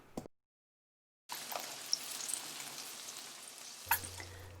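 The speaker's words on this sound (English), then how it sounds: "now it is time to add the chopped onion" Chopped onion drops into a pan of frying potatoes for poha, starting after a short silence as a steady, fairly close sizzle with a clatter toward the end; no talking.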